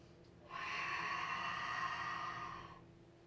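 A long, audible inhale through the nose during a Pilates exercise, close and breathy, rising quickly and holding for a couple of seconds before fading out.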